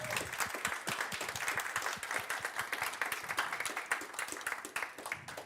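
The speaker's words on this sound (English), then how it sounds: "big applause to Anastasia" Sustained applause from a crowd, dense overlapping hand claps filling the whole stretch at a steady, fairly loud level.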